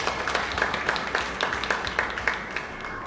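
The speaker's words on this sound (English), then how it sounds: "Claps are getting louder." An audience at a StarCraft tournament claps in a rhythmic, fairly even beat, a crowd of many hands heard at moderate distance with a steady murmur underneath.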